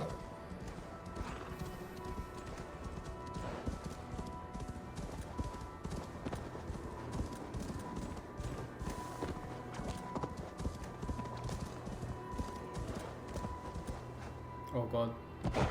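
Horse hooves clip-clopping in Assassin's Creed Valhalla, a steady rhythmic run of hoofbeats with occasional neighs, set against game music and ambience, with a voice speaking over parts of it and a louder burst near the end.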